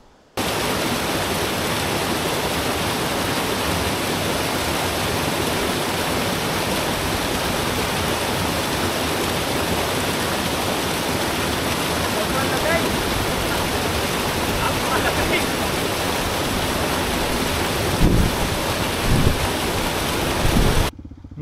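Cold natural spring water pours steadily from a pure spring in remote Palanan, Philippines, a dense, constant rushing wash close by, with a few louder splashes near the end.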